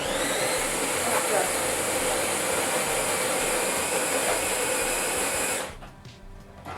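A Jura Capresso Impressa F50 coffee machine brews espresso with a steady, loud pump whir and hiss that holds evenly for several seconds, then cuts off abruptly and leaves a quieter tail.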